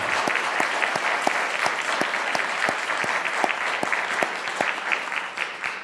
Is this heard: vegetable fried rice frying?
no